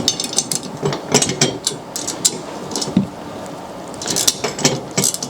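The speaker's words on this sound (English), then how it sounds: "simply bolt it on using a couple of the lock nuts" Extra upright of a target system being bolted on with lock nuts: a run of close metallic clinks, taps and ratcheting clicks, irregular bursts with brief pauses, no talk.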